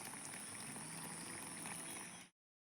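Water pours steadily from a drum fed by a homemade ram pump and is used for watering napier grass, a continuous bubbling gush that holds constant before stopping abruptly.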